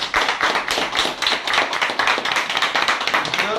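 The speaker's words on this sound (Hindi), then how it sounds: "जोरदार तालियां बजाइए मेरे यार।" A crowd claps hard in a fast, fairly even rhythm, each beat sharp and loud, with no voices on top.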